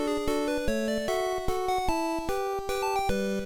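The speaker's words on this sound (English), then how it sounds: "But the Tetris Minuet version sounds like this." The Minuet version of the Tetris soundtrack on Game Boy plays a stately chiptune melody with square-wave chords in an even, measured rhythm, clear and uninterrupted.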